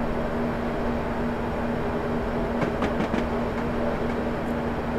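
A train running on rails in Train Simulator on the South Wales Coastal route, a steady rolling rumble with a constant hum and a few rail clicks midway, with no talk.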